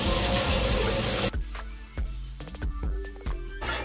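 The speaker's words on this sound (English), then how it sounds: "I'm not sure if you can hear me over the water." A kitchen tap runs steadily and loudly for just over a second, then shuts off, leaving clattering dishes and utensils in the kitchen sink.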